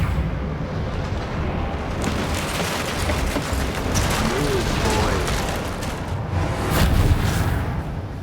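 Bombarda and Confringo spell explosions in Hogwarts Legacy, dense rumbling blasts and crackling bursts that build into a heavier boom near the end, with a voice talking over them.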